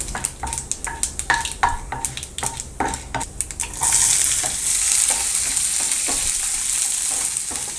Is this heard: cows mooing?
no